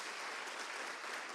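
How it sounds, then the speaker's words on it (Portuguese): Church congregation applauding together in a steady, dense wash of clapping that holds evenly for its whole length, quiet and fairly distant, with no voice over it. "dá uma salva de palmas para Jesus"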